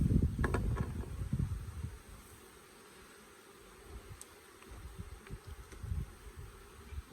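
Honey bees buzz around a hive while nucs and grafts are being worked, a low, uneven drone close by. Occasional handling knocks and rustles cut in, and the sound goes quieter for a few seconds in the middle.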